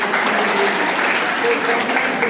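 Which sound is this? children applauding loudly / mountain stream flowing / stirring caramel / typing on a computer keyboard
children applauding loudly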